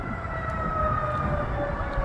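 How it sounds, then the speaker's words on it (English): A tornado siren wails in the distance, holding a sustained tone over low rumbling background noise. "Tornado siren."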